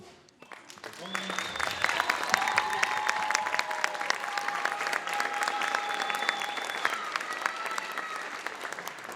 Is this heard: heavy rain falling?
no